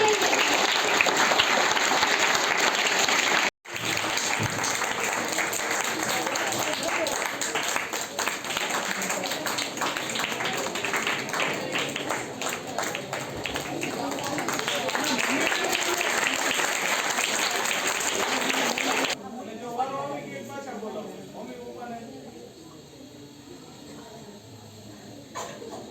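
An audience at a school drama performance bursts into loud, sustained applause, dense clapping for about twenty seconds before fading into scattered claps and murmured voices.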